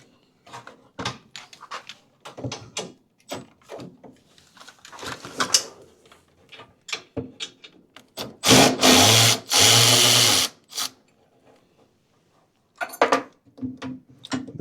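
A right-angle drill works a bolt free on a Toro Titan mower: scattered clicks and rattles, then a loud two-second burst of drill whir, followed by quiet and another short run near the end.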